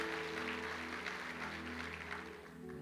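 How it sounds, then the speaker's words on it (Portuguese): A church congregation applauds during a sermon, a soft, distant patter of clapping over sustained musical tones. "Você pode dar um aplauso ao Senhor por isso?"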